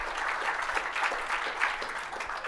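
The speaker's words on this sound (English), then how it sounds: "So a round of applause for Russell as well, please." Steady applause from an audience, dense clapping sustained throughout with no voices over it.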